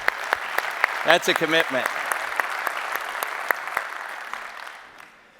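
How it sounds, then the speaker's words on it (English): Audience applause at a golf teaching and coaching summit, a steady patter of many hands clapping with a voice speaking briefly over it near the start, then fading toward the end. "How about a round of applause for those individuals?"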